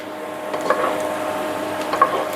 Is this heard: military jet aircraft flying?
no